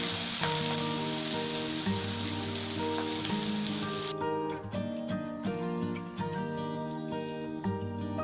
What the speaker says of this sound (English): Now slow the flame and we can add our marinated chicken pieces.